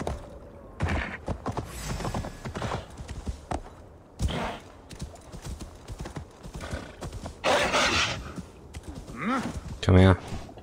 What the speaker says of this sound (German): Weil Loki, unser Pferd, kann einfach von überall auftauchen.